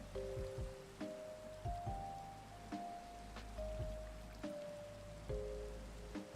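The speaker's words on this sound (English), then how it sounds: "I don't feel like dealing with rain." Steady rain hisses across a Minecraft-style game world, a continuous wash of patter beneath sustained musical tones and occasional soft thumps, with no talking.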